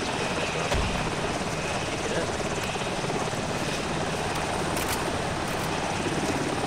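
A helicopter landing in the Arma 2 military video game, its loud continuous rotor and turbine roar filling the scene close by, with a couple of brief sharp knocks.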